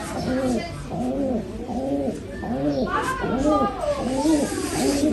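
Racing pigeons just trapped after a 350 km race coo close by, with a steady, rhythmic series of rounded, throaty coos repeating about every half second, several birds overlapping.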